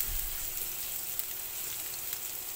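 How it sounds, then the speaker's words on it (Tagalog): Garlic sizzling in hot cooking oil in a pan, a steady bright crackling hiss with tiny pops, close and alone without talk. "Mainit na itong ating mantika at ilagyan natin ang ating bawang."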